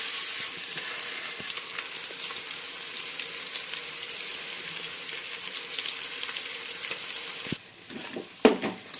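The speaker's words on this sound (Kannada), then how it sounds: "ಸ್ವಲ್ಪ ಎಣ್ಣೆಗೆ ಚೆನ್ನಾಗಿ ಫ್ರೈ ಮಾಡಬೇಕು ಇದನ್ನ." Stuffed ridge gourd fries in oil with a loud, constant close sizzle and crackle, ending in a few clattering pan knocks near the end.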